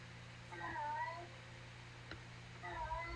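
A house cat meowing nearby in two short bursts at the start and end, faint and under a low steady hum, with a brief tap in between.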